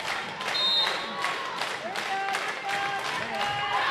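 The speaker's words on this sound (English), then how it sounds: "And now the crowd's really getting into it" Spectators at a girls high school volleyball match cheer and clap loudly in a gym for a few seconds, a dense wash of shouts, whistles and applause with voices mixed into the din.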